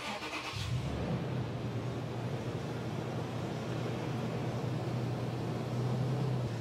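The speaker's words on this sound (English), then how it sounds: "We'll start the vehicle up." A car engine cranks and catches, then settles into a steady, close idle, on a vehicle being run for catalytic converter emissions testing with a 5-gas analyzer.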